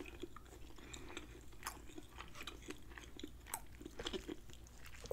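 Chewing honey Old Bay chicken thighs: steady close, moist chewing with small crunchy bites throughout, quiet and with no talk.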